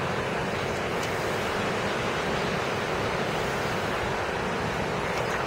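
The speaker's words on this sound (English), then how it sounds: "It's because of the wind." Strong wind from a thunderstorm gust front roars steadily and loudly across the microphone, a dense unbroken rush of noise with no voices.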